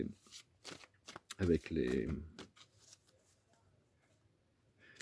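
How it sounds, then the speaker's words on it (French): Oracle cards shuffled and drawn by hand, a quick riffling burst in the middle amid soft card handling, close and quiet, with someone speaking at points. "Puis je vais retirer une dernière carte"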